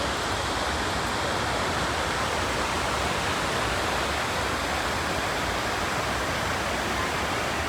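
Small waterfall at Saputara, a steady broadband rush of falling water, continuous and fairly close, with no voices over it.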